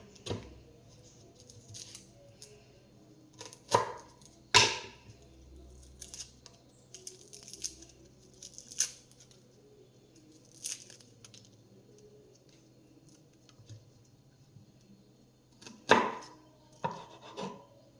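A knife chops ingredients for a chutney on a cutting board: sparse, sharp, close thuds in irregular bursts, separated by quiet stretches of faint handling noise.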